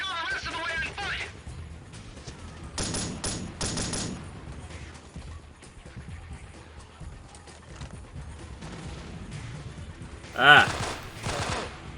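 Gunfire in the Delta Force Black Hawk Down video game, with short bursts of rapid shots scattered through the clip and one sharp loud crack near the end, mixed with game ambience and a voice talking and exclaiming.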